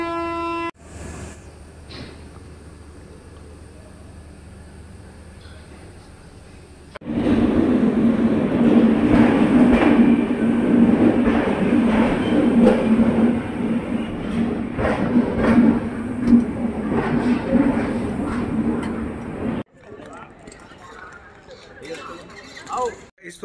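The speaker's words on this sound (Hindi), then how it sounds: "ट्रेन का सिग्नल हो गया गाइस, चलते हैं।" Express train from Kanpur to Ajmer, heard from inside: a quiet carriage hum, then a loud, steady rumble of the train under way for most of the clip, dropping off before the end.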